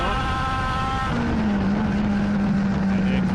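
Race cars circling the Hattiesburg Speedway oval at a season opener: a steady, loud engine roar that fills the clip, with a sustained engine drone rising in from about a second in.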